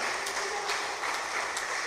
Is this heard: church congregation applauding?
yes